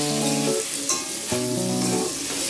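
Pointed gourd curry spices frying and being stirred in a pan, a steady loud sizzle with scraping stir strokes around the middle, alongside a sustained musical tone.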